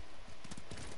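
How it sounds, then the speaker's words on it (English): Quick, rhythmic hoofbeats of a horse clip-clopping at a steady trot, close and clear, in the video game Ghost of Tsushima. "Let's get on my horse."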